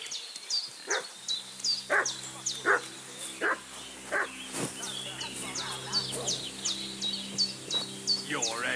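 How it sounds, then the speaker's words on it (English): Dog barking repeatedly in a video game, sharp rhythmic barks at a steady pace with chirping birds in the background throughout. "What's that dog making such a fuss about?"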